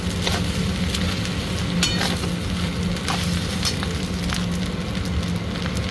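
Leftover roti and rice frying with vegetables in a pan, a steady dense sizzle and crackle running throughout with a few faint scraping ticks.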